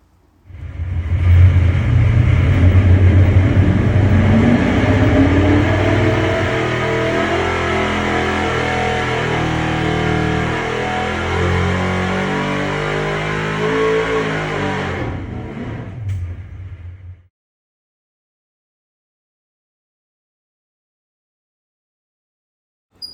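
A 1000+ HP small-block Chevy on a stock block, crank and rods, with 9.83 compression, runs on a dyno. It is loud and close, with a sustained roar that climbs in pitch for about fifteen seconds before cutting off abruptly to silence.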